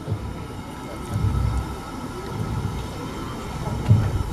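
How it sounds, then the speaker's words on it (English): The Clun Castle steam locomotive moves back slowly at a rail depot open day, giving a low, steady rumble with soft swells and a faint clank near the end, under distant crowd murmur. "We're just going to move the locomotive back away"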